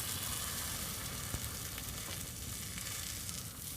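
A green Anaheim pepper omelet sizzles in a frying pan with a steady, close, bright frying hiss and a few faint scrapes, without any talking.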